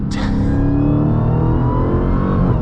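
A Dodge Challenger SRT Demon at full throttle, its engine roaring loud and close with a deep, continuous growl that climbs steadily in pitch under hard acceleration.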